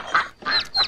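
Cartoon ducks honking and quacking in three short bursts, close and fairly loud, with no talk.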